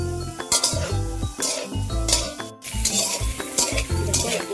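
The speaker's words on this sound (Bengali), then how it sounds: "নাড়াচাড়া করে ভেজে নেব" Paneer frying in a wok (kadai) with turmeric, stirred briskly with a metal spatula that clinks and scrapes repeatedly against the pan over a continuous sizzle, close and loud.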